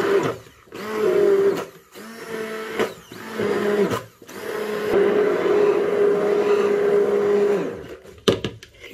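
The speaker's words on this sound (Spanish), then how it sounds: "la salsa de soya y los dientes de ajo. Y esto simplemente lo trituramos muy bien." A kitchen blender purees cilantro, soy sauce and garlic cloves into a vinaigrette, whirring loudly in several short pulses before settling into a long, steady run that stops abruptly near the end.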